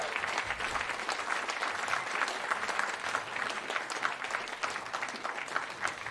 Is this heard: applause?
yes